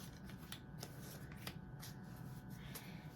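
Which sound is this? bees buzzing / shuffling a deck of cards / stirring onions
shuffling a deck of cards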